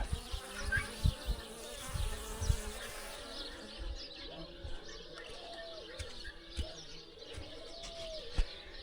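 Bees and wasps buzzing busily around a beehive under attack by wasps, a dense, continuous drone with individual insects passing close by, occasional louder thumps and faint bird calls in the background.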